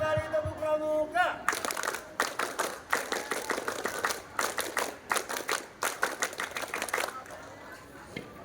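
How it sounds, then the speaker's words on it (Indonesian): Scout-style rhythmic clapping from a group at a school scout camp opening: sharp, loud claps in patterned bursts lasting several seconds, preceded by a brief voice. "Dua kali tepuk pramuka."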